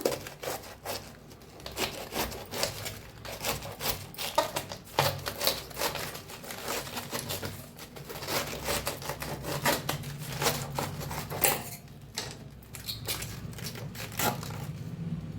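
A knife slices a large cabbage into big chunks, giving repeated crisp crunching and tearing cuts in an irregular rhythm, close and fairly clear with no talking.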